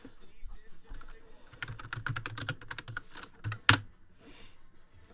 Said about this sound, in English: you type in Binance Smart Chain